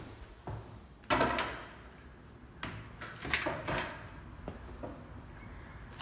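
A back door is opened onto a private deck at a rental home, giving a sharp thump and rattle of the latch, then a few more knocks and scrapes as it swings open and shuts.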